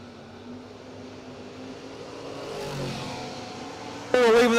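At a drag strip, a 1991 Chevy S10 and a Buick Skylark sit at the starting line with engines idling and a rising rumble, then one car revs sharply and loudly just before the end.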